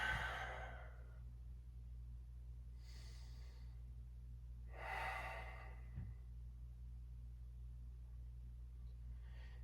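Slow, deep breaths during a yoga forward fold, with a long exhale at the start and two more soft breathy swells later, faint and close over a steady low hum.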